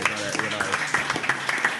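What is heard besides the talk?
audience applause at live podcast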